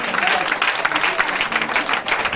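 A church congregation at a Sunday service claps and applauds steadily to acclaim the Lord, a dense, continuous patter of many hands with some voices mixed in.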